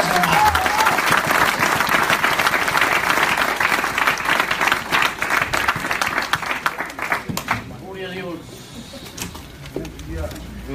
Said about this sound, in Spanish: Denle un aplauso de veras.